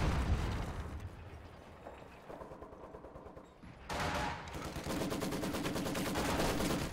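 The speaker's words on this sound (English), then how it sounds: "Maxim and MG42 working on the stolen MG42 over here on the left side" Maxim and MG42 machine guns firing in a World War strategy video game, dense rattling bursts with booming explosions, loud at first, dipping briefly, then surging back to sustained heavy fire.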